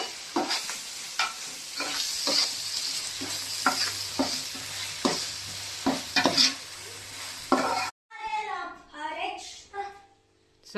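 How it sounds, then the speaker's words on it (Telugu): Tomatoes and green chillies frying and being stirred in a pan for prawn curry, with repeated sizzling bursts and spoon scrapes, then a short stretch of quieter sizzle under brief talk at the end. "పచ్చిమిర్చి వేసిన తర్వాత ఇవి బాగా మగ్గి ఫ్రై అయిపోవాలన్నమాట"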